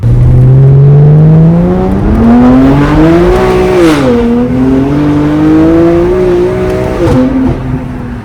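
A BMW M2 fitted with an aftermarket valvetronic exhaust revs up loudly and steadily, its engine note climbing and dipping through several pulls with crackling burbles in between, close and dominant with no talk.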